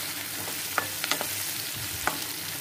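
Cumin seeds frying in hot oil give a steady, quiet sizzle, with a few sharp pops and light stirring clicks scattered over it and no voices.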